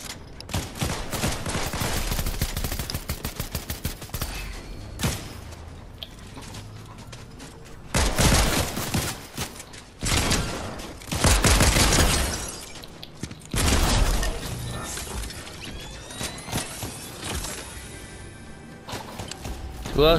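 Rapid video game gunfire crackles in dense bursts and volleys, with loud booming impacts and shattering hits, continuous over about twenty seconds with brief pauses between heavy barrages.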